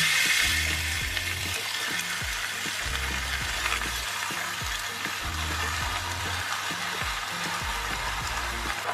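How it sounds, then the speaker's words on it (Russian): Zucchini frying in a generous amount of olive oil in a skillet makes a steady, hissing sizzle, with a low repeating hum from an appliance or motor running beneath it. "Отправляю на сковородку цукини."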